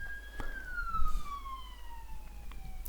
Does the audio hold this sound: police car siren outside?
yes